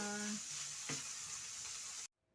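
Bitter gourd sautéing with ground meat and egg gives off a steady broadband frying sizzle, with a brief voice at the start and a short clatter partway through, before the sound cuts off abruptly near the end.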